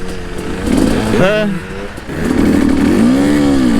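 An enduro motorcycle off-road engine drones and revs steadily, with a rising-then-falling rev around a wheelie mid-clip and a longer climbing rev after, loud and close throughout.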